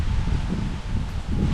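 Wind blows steadily and close by. Leaves rustle in a soft continuous hiss, with small gusts swelling and easing over a short stretch, and no voices.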